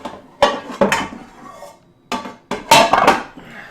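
Worn cooking pans handled in a home kitchen while roast beef is being prepared, giving several loud metallic clanks and knocks in separate bursts with short silences between them.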